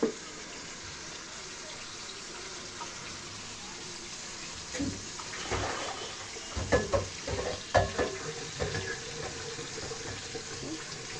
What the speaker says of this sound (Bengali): কড়াইতে একটু হালকা তেল ব্যবহার করছে, শাকটাকে বাগার দিবে।